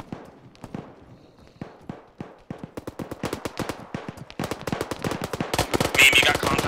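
Video game firefight gunfire, sparse single shots building into dense rapid automatic bursts that grow louder and closer toward the end, with no talk over it.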